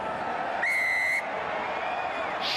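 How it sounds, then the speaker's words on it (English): A rugby referee gives one shrill whistle blast lasting about half a second over a steady stadium crowd murmur, with a fainter second whistle near the end. "Shrill blast of the whistle."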